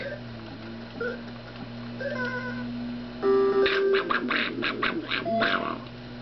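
A person briefly imitates Donald Duck's voice with a run of raspy, quacking syllables during a Jeopardy! Jr. game on the NES, heard alongside soft game music.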